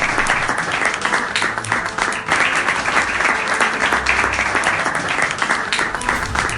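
A large school audience applauds a student being honored, a dense, steady roar of clapping held close and loud throughout with no voices on top.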